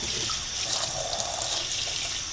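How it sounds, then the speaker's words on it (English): Tap water runs steadily over corrugated cardboard to loosen the glue between its layers, a continuous close hiss and splash with no pauses and no talking. "You just kind of let the water"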